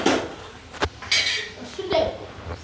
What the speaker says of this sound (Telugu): మా డాడీ కూర కలుపుతుండు.